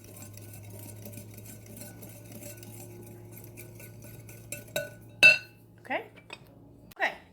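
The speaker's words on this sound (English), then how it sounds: "And then you whisk all of those ingredients together real well." A whisk stirs dry keto muffin ingredients with sweetener in a bowl, making a soft, steady scrape, then several sharper clinks against the bowl toward the end. A brief word is spoken.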